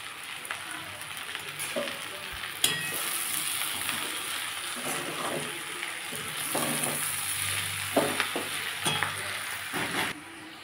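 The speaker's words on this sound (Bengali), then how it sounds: "এটা ভালো করে এবার কষিয়ে নেব" Spices and curry masala for a Bengali fish curry with potato and onion shoots sauté in oil, a steady close sizzle broken by repeated stirring scrapes and a few sharp utensil clicks, no speech.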